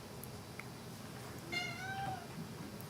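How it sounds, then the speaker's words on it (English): A house cat gives a single drawn-out, plaintive meow, faint and in the background behind steady room noise. "why are you meowing?"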